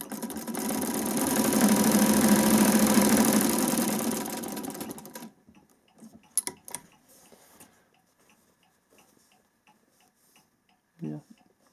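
A vintage Singer treadle sewing machine fitted with a Swiss zig zag attachment runs in a steady, close mechanical whir for about five seconds, then stops, leaving only scattered faint clicks and handling knocks.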